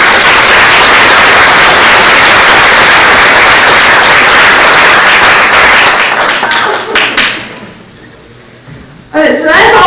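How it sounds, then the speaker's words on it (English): Audience at a 4-H awards banquet breaks into loud, dense applause that carries for several seconds, then thins into scattered claps, falls nearly quiet, and picks up again with a brief burst of sound at the end. "So give him a round of applause."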